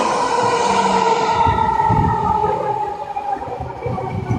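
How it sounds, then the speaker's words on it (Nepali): A train pulls in close by with a long, loud, wavering tonal wail like a horn or squealing brakes over a heavy low rumble. The wail eases off toward the end, and no one speaks. "बाजे मेरो ट्रेन आयो हेर्नु पारी अडो"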